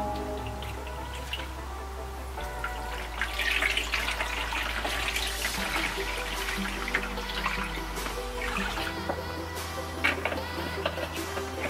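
Water pours into a plastic basin inside a van being converted to a camper, running steadily with a splashing hiss that shifts in tone as the basin fills, moderately quiet and without speech.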